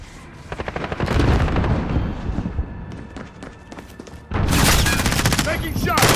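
Rapid automatic gunfire in Call of Duty: Modern Warfare during a Headquarters match, with dense bursts of shots, a brief lull, then a louder close-range volley, amid battlefield noise and game voice callouts.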